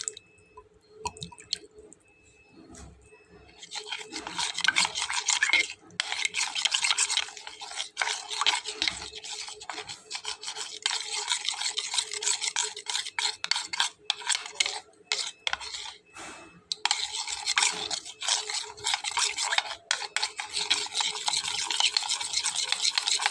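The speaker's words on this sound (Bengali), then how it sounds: "খুব ভালোভাবে আমি মিশিয়ে নিলাম বন্ধুরা।" Semolina and potato batter is stirred briskly in a bowl, giving a near, continuous wet scraping and squishing with rapid rhythmic strokes and a few short pauses, and no talking.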